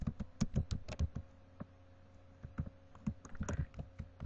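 Close, quiet typing on a computer keyboard as an album name is entered for a Facebook group post: two short bursts of rapid key taps separated by a brief pause, with no talk.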